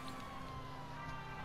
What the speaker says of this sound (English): stop the sirens real quick